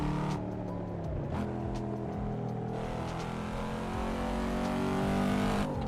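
Race car in the driving game Assetto Corsa, engine droning and revving in sustained tones with gear shifts and a rising pitch near the end, loud and continuous.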